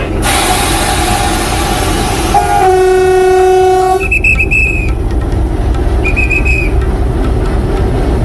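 Close, loud train horn tones sound over heavy rumbling, then shorter whistle blasts follow as a low mechanical roar continues.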